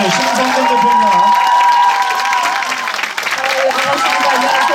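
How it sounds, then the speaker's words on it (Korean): Crowd at a live interview show applauding and cheering loudly throughout, a steady wash of clapping with shouting voices layered over it. "다시 한번 박수 주십시오."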